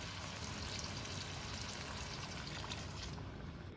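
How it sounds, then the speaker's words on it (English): Cooking water from boiled chickpeas pours into a pan in a steady, close trickle that flows evenly for a few seconds before easing off at the end, with no voices over it. "Add 1/2 cup of water from the boiled chickpeas."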